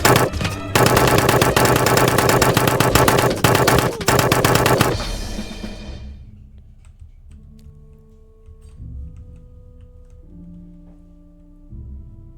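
Minigun fire in the Totally Accurate Battle Simulator video game, a loud, dense rattling burst lasting about five seconds that cuts off, followed by quieter tonal game sounds and soft thuds.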